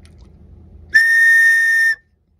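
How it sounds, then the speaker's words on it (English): After a faint low murmur, a single shrill note from a homemade wooden whistle sounds one steady, clear tone for about a second, then cuts off into silence. "Okay, the whistle works."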